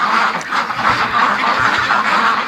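Ducks in a pen quacking and murmuring close by, a steady cluster of overlapping nasal calls with no talk.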